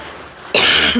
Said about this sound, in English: it's not very pleasant to hear me cough